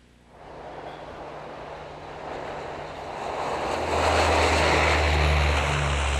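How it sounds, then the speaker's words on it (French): A Canadair water-bomber aircraft passes overhead with a steady propeller drone that swells louder as it approaches, a broad rushing roar with a low engine hum beneath. "les avions qui, en faisant du rase-motte sur les lacs, le ramassent l'eau et déversent ça sur les incendies"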